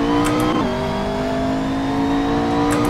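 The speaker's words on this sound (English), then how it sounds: "I'm driving this car quite sensibly, quite slowly." A car engine hums steadily at low revs while being driven slowly in the Assetto Corsa racing game, a continuous even drone with a small pitch dip partway through.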